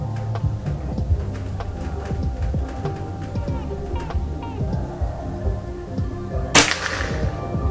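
A single sharp PCP air rifle shot cracks out near the end, over a background of low thumps and faint handling noise.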